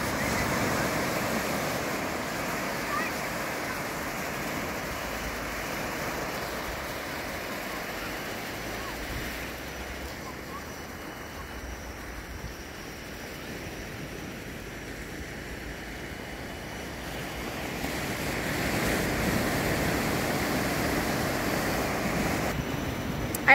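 Ocean waves wash in at the water's edge on a Phuket, Thailand shore at sunset, a continuous soft surf rising and falling, mixed with wind buffeting the microphone.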